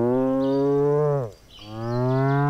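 A cow moos in the video game DEEEER Simulator, two long, loud, close bellowing moos separated by a brief dip, with no talking.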